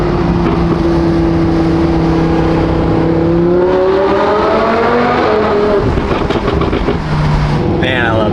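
BMW M4 with a failed motor accelerating hard, its engine note climbing steadily through the revs, loud and close with wind noise, then a shift and settling at the end.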